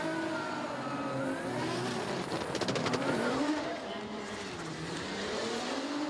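A 1,200-horsepower Nissan GTR drift car roars continuously at the FIA Intercontinental Drifting Cup, its engine revving and droning loud and close while a commentator talks over it.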